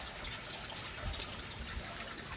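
Water draining from a tub, a continuous soft gushing wash at low level with faint low gurgles, no talking.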